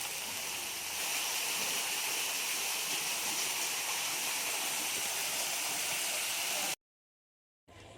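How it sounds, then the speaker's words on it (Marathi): Steady roaring rush of a waterfall, loud and continuous, with a brief cut to silence near the end. "हा आहे तो धबधबा"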